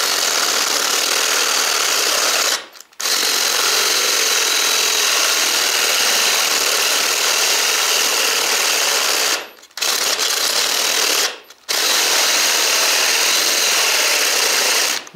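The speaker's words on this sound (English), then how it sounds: "this tool is not really designed to be drilling these big old bore holes like this" A Makita CXT FD06Z cordless drill driver bores large holes, whining loudly and steadily for long stretches, broken by two or three brief pauses where the motor stops and restarts.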